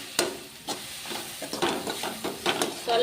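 Vegetables fry in a pan with soy sauce and vinegar, a close sizzle broken by repeated scraping stirs in an uneven rhythm, with no speech.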